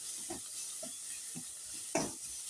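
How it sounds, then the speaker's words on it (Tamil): Sambar kuzhambu cooks in a clay pot with a faint, soft sizzle and several gentle stirring scrapes, one a little louder near the end. "பாருங்கள் நல்லா வெந்துட்டுருக்குது பாருங்கள் குழம்பு"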